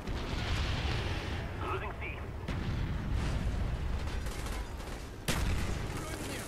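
Napalm strike explosions in the Call of Duty: Black Ops video game on PC, a continuous roar of fiery blasts and rumbling gunfire with a sharp burst late on, loud throughout and mixed with game noise.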